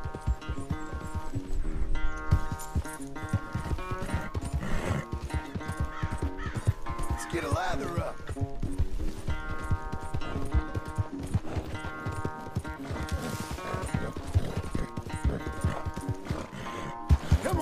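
Horse hooves clip-clop and a horse whinnies while breaking a big, mean horse in a corral in Red Dead Redemption 2, the rhythmic steps running throughout under steady game music, with someone speaking briefly.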